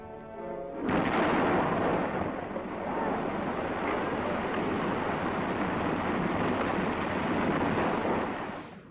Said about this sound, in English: Now hold tight and watch for the explosion.